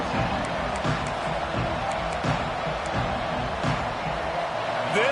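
A stadium crowd roars steadily at a Tennessee versus Virginia Tech college football game, a dense, loud wash of cheering with faint thumps and a commentator's voice underneath.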